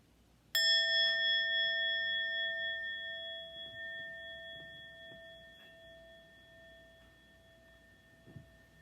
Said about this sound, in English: let me ring a bell